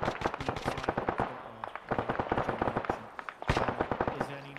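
Gunfire in a tactical shooter operation, dense rapid bursts of automatic shots mixed with single cracks, loud and close, firing almost continuously with a brief break near the end.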